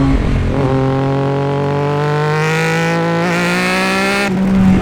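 A Triumph Daytona 675 motorcycle engine revs up loud and close on a bumpy road, its pitch climbing steadily through one long pull before a brief dip and another rise, with no talking.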